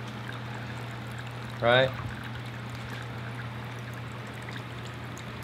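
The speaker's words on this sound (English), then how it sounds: "So you can see there's a good flow of water, right?" Water streams steadily through a carburetor jet flow-test rig, a constant rushing wash with a low hum underneath, while someone briefly speaks over it.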